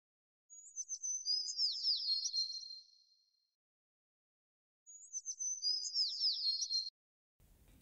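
Two separate bursts of rapid, high bird chirping, each a trilling phrase lasting about two seconds, with clean silence between them.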